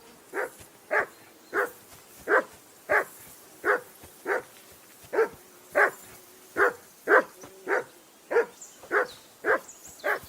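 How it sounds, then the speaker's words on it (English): A dog barks in the video game Kingdom Come: Deliverance 2, giving about fifteen sharp, evenly spaced barks roughly every 0.7 seconds, close by and clear over a quiet background with no talk. "I assume you can hear that damn dog of yours barking."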